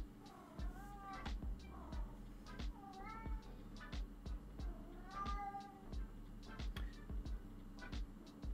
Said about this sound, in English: a little bit of a cat whining in the background